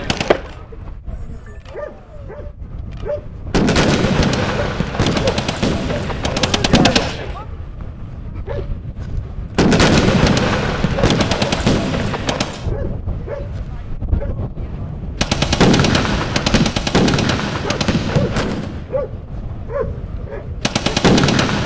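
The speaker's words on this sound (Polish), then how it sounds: "Nagle pada pierwszy strzał z strony kopuł." Bursts of heavy automatic gunfire come in long rapid volleys separated by quieter gaps, loud and close, with some background noise between, fired from the direction of the domes at a German position.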